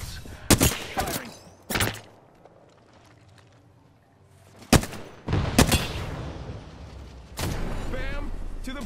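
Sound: gunfire in the video game Apex Legends

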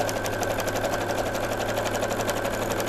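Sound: sewing machine stitching fabric pieces

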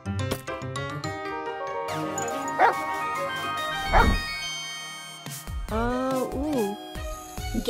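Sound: dog barking

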